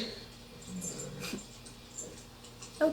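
A dog in a TV drama gives soft, faint whimpers and small whining noises against a quiet background, with a brief sharper sound at the very end.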